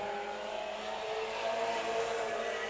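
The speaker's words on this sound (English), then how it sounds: "Pretty cool race cars. 4-cylinder, rear-wheel drive, body style like a modified." Four-cylinder, rear-wheel-drive race cars with modified-style bodies run laps at Stockton 99 Speedway, producing a sustained engine drone that holds steady at moderate distance with no talk over it.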